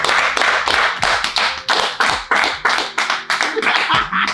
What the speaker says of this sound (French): Et là, ils se mettent tous ensemble pour applaudir Linda Sen qui arrivait il y a 3 jours.